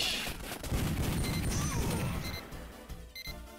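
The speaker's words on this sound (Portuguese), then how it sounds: "Um tiro bem na cara ali." Gunshots and impact crashes from the arcade shooting game Time Crisis come in a quick cluster of sharp bangs, quiet in the mix, with game effects trailing after.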